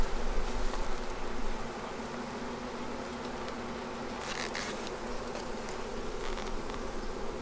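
Honey bees buzzing steadily at an opened beehive during a spring inspection, a dense, close hum with occasional louder passes near the microphone.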